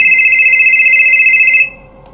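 A mobile phone rings with a bright, steady electronic tone held for about a second and a half, then stops abruptly, leaving near silence.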